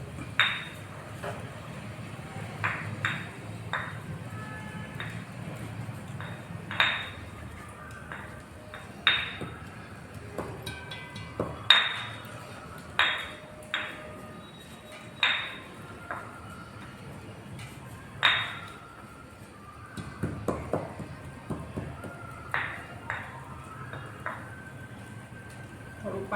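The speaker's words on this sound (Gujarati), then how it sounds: "આવી રીતે મસાલો ખાંડી નાખો ને એટલે એનો ટેસ્ટ બહુ સરસ આવે શાકમાં" Spices such as chili, coriander-cumin powder and turmeric are pounded by hand with a mortar and pestle in a Kathiyawadi home kitchen, irregular sharp knocks and clinks spread across the clip against a quiet room background.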